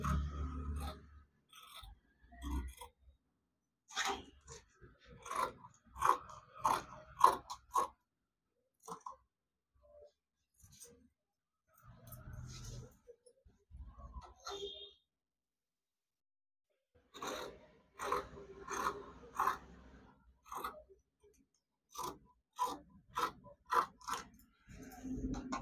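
Scissors cutting blouse fabric close by, with repeated crisp snips in bursts separated by quiet pauses.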